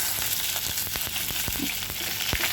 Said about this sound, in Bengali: তারপর কড়াইতে সর্ষের তেল দিয়ে মাছগুলো একে একে আমি ভেজে নেব